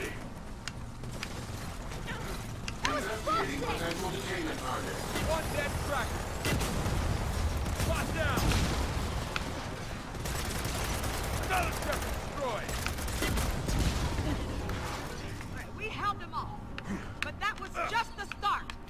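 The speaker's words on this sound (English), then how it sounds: "I have to burst fire because this thing sprays so much unless I active reload." Short bursts of automatic rifle fire in Gears of War 4 crackle over a busy battle mix, repeated several times, with a person talking over the shooting.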